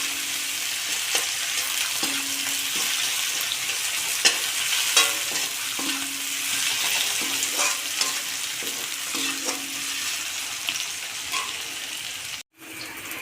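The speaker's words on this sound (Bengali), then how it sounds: "পেঁয়াজটাকে ভালো করে একটু ভেজে নেব," Onions frying in oil until reddish in a home kitchen, a continuous close sizzle with repeated stirring scrapes of a spatula against the pan, no talking.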